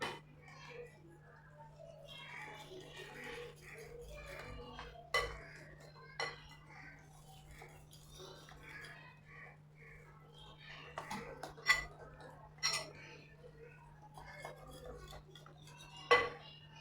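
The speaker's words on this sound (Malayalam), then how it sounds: "ഒരു വിസ്ക് കൊണ്ടൊന്ന് കലക്കി കൊടുക്കാം." Ragi flour batter mixed with jaggery syrup is stirred with a whisk in a bowl, giving soft clinking and scraping. Sharp metal clinks come now and then over a low steady hum, fairly quiet and close.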